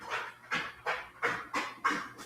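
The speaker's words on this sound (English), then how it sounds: "Is that your dog? Yeah, going up and down the stairs." A dog pants rhythmically while going up and down stairs indoors, about six close, breathy bursts in steady succession, with no voices.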